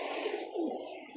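Stock pigeon hen cooing in a breeding loft, soft low coos repeating steadily and fairly close, with a faint hiss of background noise above.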